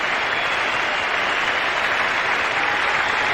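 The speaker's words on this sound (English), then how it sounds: "a nice moment for the crowd here, with Allan Border leaving the field" A sellout stadium crowd at the Gabba in 1993 applauds a cricketer leaving the field in a tribute match, sustained loud clapping that fills the whole stretch without a break.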